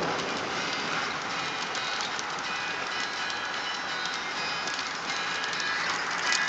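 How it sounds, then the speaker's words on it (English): Rain during a storm beats down in a dense, steady hiss, a broad unbroken wash of drops that holds an even level throughout with no voices. "you can just see the rain coming though. And here it is."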